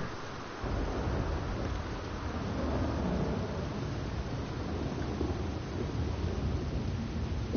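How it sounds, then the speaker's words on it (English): Thunderstorm ambience in the open-world western game Red Dead Redemption: a continuous broad rumble with rain-like hiss that holds steady at a moderate level throughout, no talking. "Thunder. Thunder. Or is that lightning?"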